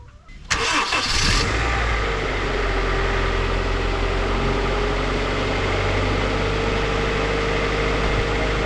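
A 2001 Honda CR-V with a 2.0-litre engine cranks briefly and fires up, then settles into a steady, close idle that hums on without a break for the rest of the stretch.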